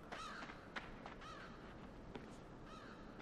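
A crow caws repeatedly in Limbo, several harsh calls spread over a few seconds against a low, steady ambient background.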